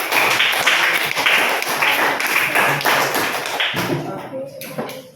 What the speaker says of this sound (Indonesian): tepuk 1 jari, tepuk 2 jari, 4 jari, habis itu 8 jari sudah bunyi sedikit, 10 jari lagi